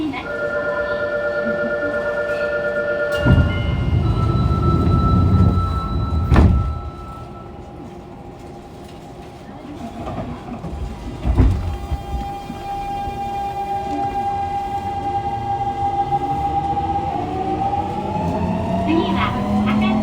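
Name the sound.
Fukuoka subway 2000 series train running, Hitachi GTO-VVVF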